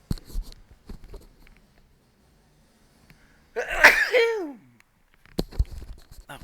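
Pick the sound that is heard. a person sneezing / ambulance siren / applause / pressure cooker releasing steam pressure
a person sneezing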